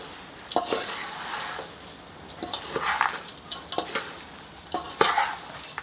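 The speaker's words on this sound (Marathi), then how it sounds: "हे याच्यामध्ये व्यवस्थित हलवून घ्यायचं हळूहळू हळूवारपणे हलवून घ्यायचं" Dry fried poha chivda mixture of flattened rice and fried ingredients being gently stirred in a pan, giving soft scraping and rustling with sharper utensil scrapes against metal at irregular intervals, close and moderately loud, no voices.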